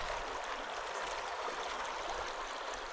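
A mountain creek flowing, a steady close wash of rushing water with no breaks and no voices.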